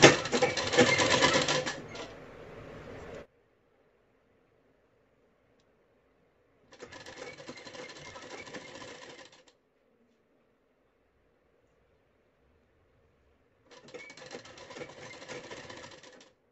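Sewing machine stitching net blouse fabric, running in three separate bursts with silent pauses between, the first burst loudest and the later two softer, close by with no talk.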